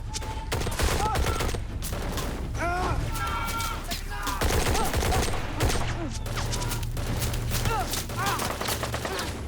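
Rapid bursts of movie gunfire crackle and pop without pause, with shouting voices and dense battle noise layered underneath.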